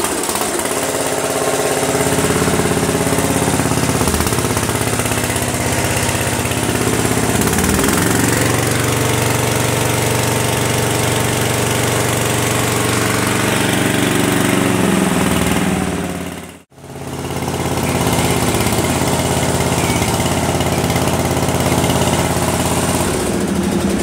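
A Gilson lawn mower engine runs steadily and loudly for the whole stretch, with a dense mechanical drone that cuts out for a split second partway through before resuming.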